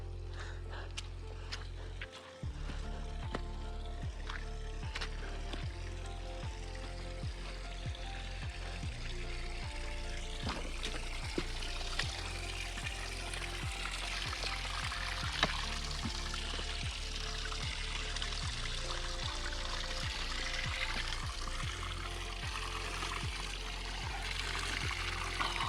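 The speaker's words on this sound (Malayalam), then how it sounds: "ചെറിയ അരുവി കിട്ടും ഇവിടെ." A small mountain stream in Baisaran valley near Pahalgam, Kashmir, flowing steadily with a continuous close rush and trickle, even in loudness throughout with occasional light clicks.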